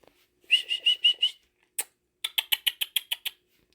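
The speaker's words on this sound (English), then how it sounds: "I can't whistle, y'all. I suck at whistling." A person whistles to call dogs outdoors: a run of five short, high whistled bursts, a pause and one sharp chirp, then a quicker series of about seven clipped whistles, close and clear with no talk.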